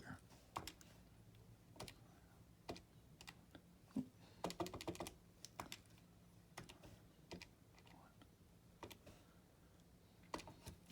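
Rapid button presses tapping numbers into a calculator while working a trigonometry equation, a quiet run of sharp clicks in irregular bursts over a low hum, with some light talk nearby.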